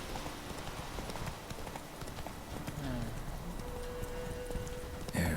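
Horse Roach galloping in the video game Witcher 3, a soft rhythmic clip-clop of hooves under ambient game sound, with someone talking over it.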